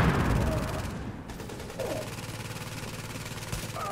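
Rapid turret gunfire in the video game Tom Clancy's The Division, a sustained burst of evenly spaced shots after an opening boom, with faint game sounds in the background.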